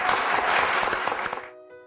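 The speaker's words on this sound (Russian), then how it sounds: "Аплодисменты." An audience at a Russian church programme breaks into loud, dense applause that fades out after about a second and a half, leaving a faint musical tone.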